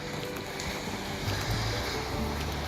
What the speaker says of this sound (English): I can hear the waves crashing